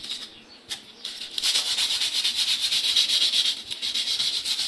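Rough sandpaper scrubs stains from an old toilet bowl, a close, rhythmic rasping with quick back-and-forth strokes that starts softly and then grows steady and loud.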